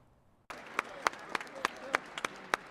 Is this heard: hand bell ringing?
no